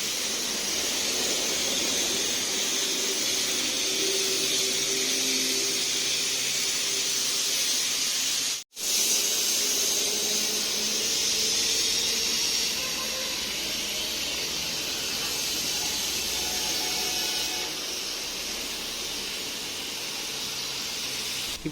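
A pressure washer sprays water on a motorcycle with a loud, continuous hiss, broken once by a brief cut-off before the spray resumes steadily.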